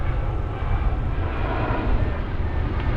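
A loud airplane passes overhead, its engines producing a steady, heavy roar that fills the whole three seconds without a break.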